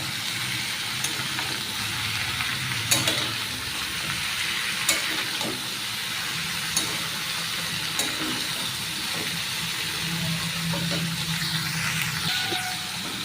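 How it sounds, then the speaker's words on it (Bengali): Pointed gourd and potato pieces frying in hot oil with black cumin, a steady loud sizzle with occasional stirring scrapes and clinks throughout. "এবার তেলের মধ্যে এই যে কেটে ধুয়ে রাখা পটল আলুটা দিয়ে দেবো"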